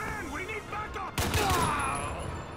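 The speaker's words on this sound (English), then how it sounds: "I just like having a fully automatic M14" Fully automatic M14 rifle fire in the video game 007 Quantum of Solace, a loud dense burst of rapid shots breaking in after a moment of game background noise and ringing on for over a second.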